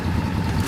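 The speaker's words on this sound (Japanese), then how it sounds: "エンジン音聞かせてもらえる？" A 1983 Honda MVX250F two-stroke three-cylinder motorcycle engine, fitted with an RSV silencer, running loud and close, a dense, raspy steady roar.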